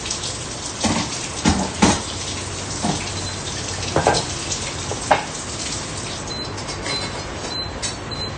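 Water comes to a boil in a cooking pot, giving a steady, fairly loud bubbling hiss with scattered knocks and clatters close by and no speech.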